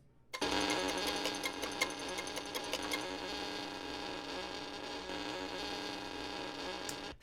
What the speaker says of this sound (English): when you press in really hard and dig in, it gives this horrible kind of grating sound